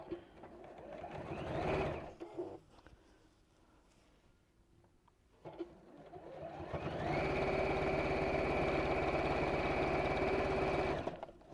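A sewing machine stitches fabric in two runs, a short burst and then a longer steady whirring stretch, loud and close with no talking.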